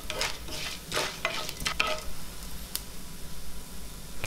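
Coriander seeds and cumin roasting in oil for a bitter gourd curry, a soft steady sizzle with a few brighter scraping stirs near the start, no voices.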